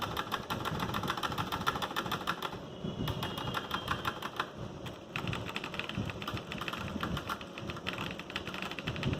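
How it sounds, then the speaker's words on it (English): Rapid, steady clicks of a keyboard space bar tap away continuously at close range, a dense mechanical rattle with no talking. "See, I am pressing only space bar."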